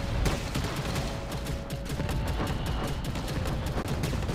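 Rapid, continuous gunfire from the mobile shooter game Catalyst Black, steady and loud across the whole stretch with dense overlapping shots and faint tonal game sounds underneath.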